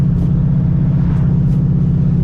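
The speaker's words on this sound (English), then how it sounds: "We're going to pull the car out and do some driving around first to test to see how the transmission is shifting" A Ford Mustang SN95 drives on a transmission test run, its engine a loud, steady low rumble that holds a continuous, even drone throughout the short stretch.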